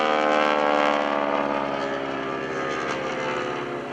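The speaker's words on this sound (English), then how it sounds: "He's going to turn the airplane around." A propeller aerobatic plane performing loops and Cuban eights at the 2013 Greenwood Lake Airshow drones loudly and steadily, its engine tone wavering slightly as it turns, with no talk over it.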